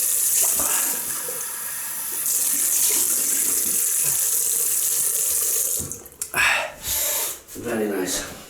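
Tap water runs steadily into a sink for rinsing after a wet shave with a Merkur Vision razor and Proraso Blue shaving cream, a continuous hiss that breaks into splashing and handling noises near the end.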